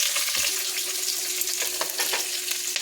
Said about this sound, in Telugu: మనం ఇదే మూకుట్లోకి కొంచెం ఆయిల్ వేసుకుని ఉల్లిపాయలు కూడా వేపుకుందామండి.